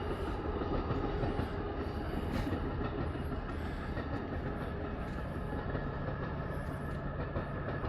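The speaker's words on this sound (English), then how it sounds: "here comes a passenger train." A short passenger train in Montana passes at moderate distance, a steady rolling roar of wheels on rails with faint clatter, heard on its own without speech.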